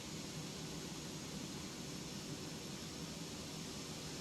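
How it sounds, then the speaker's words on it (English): Steady low jet engine roar of a ToLiss A319-112 airliner taxiing in X-Plane 12, a constant broadband whine and rumble with no talk. "All right, we're now taxiing, taxiing, taxiing."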